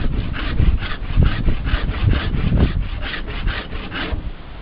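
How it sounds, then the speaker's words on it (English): A deer hide on a wooden fleshing frame is scraped to remove membrane for braintan buckskin, a close, loud run of rhythmic rasping strokes, about three per second, with no talk. "you can go ahead and scrape it this way"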